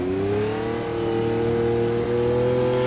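A McLaren F1 in Automobilista drives on snow at the Nurburgring, its engine holding loud, steady revs with a smooth rising and falling hum and no other sounds.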